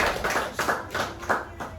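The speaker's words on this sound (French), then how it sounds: "Donc, applaudissez pour vous-même," A small group of footballers at a team meeting claps for themselves, a short run of several close, loose handclaps in an uneven rhythm, each one sharp and distinct.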